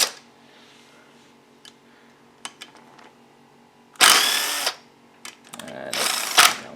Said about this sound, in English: Taking these bolts off now.